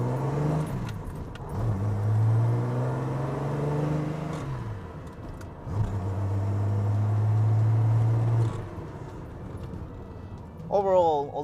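A restored 53-year-old classic Japanese domestic-market car drives along, its engine rising and falling through gear changes under a steady road rumble, while a person talks over it.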